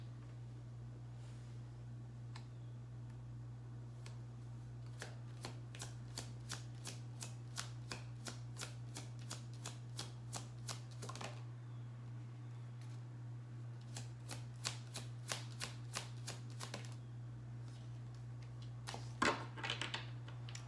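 A tarot deck is shuffled up close: a rapid run of crisp card flicks in quick bursts, soft against a low background hum.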